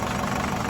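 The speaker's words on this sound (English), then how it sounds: "Engine back running and sounding nicer than it did yesterday" A Nissan X-Trail engine runs after timing-chain work and an EGR valve refit, a loud continuous mechanical drone heard close up for a brief moment.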